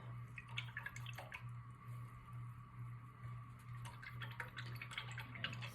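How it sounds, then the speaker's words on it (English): A paintbrush is rinsed in a container of water while mixing paint for a color wheel, giving faint, soft sloshing and dripping over a low steady background hum. "get this brush rinsed off nicely"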